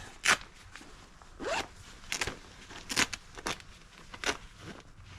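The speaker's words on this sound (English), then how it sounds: "now you can zip this up from the bottom as well, all the way up to your thigh" A zipper is pulled in a series of short, quick strokes with brief pauses between them, close and crisp against a quiet background.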